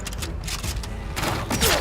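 Gunfire in the video game Atomfall, a short loud burst of shots and booms with thudding impacts, close and brief.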